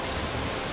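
Heavy rain pours in the Steins;Gate 0 game, a dense, steady hiss with no pauses, heard only for a moment.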